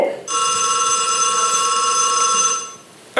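Telephone bell ringing in a single loud, continuous metallic trill lasting about two and a half seconds, close and alone, cutting off abruptly at the end.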